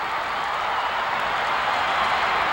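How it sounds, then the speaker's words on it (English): A 1982 Southwest Championship Wrestling crowd roars and applauds in a dense, steady wash of cheering and clapping that fills the arena without a break. "Oh, this crowd is going crazy."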